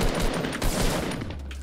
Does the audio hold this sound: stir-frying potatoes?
no